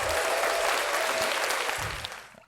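A round of applause from a podcast audience for the Vince Staples show: dense, steady clapping held at an even level, then thinning and fading out near the end.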